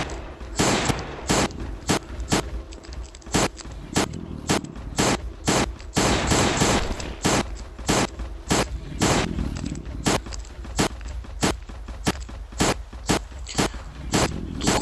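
Repeated gunshots from a firearm in the video game Last Day on Earth, a rapid irregular series of loud sharp bursts over about fifteen seconds, some closely spaced, with a scraping mechanical background.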